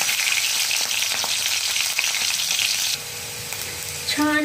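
Garlic and chillies frying in one or two spoonfuls of hot oil, a loud, steady, close sizzle that holds throughout, easing slightly partway and then rising again with a few clinks at the end.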